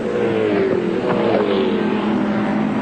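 A 2.5-litre BMW touring car races at Eastern Creek in a 1993 ATCC round, its engine a loud continuous drone rising and falling in pitch, with rushing wind over the top.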